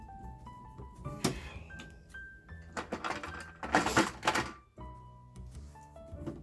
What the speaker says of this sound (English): I offer, in its stead, footage of me screwing in screws